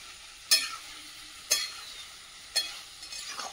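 Meat curry cooks in a pot on a wood-fired clay stove, with three sharp scraping stirs at steady intervals over a faint, steady sizzle, close and quiet, no voices.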